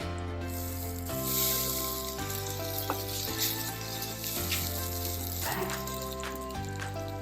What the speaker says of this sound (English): Now I'm adding soaked sabudana.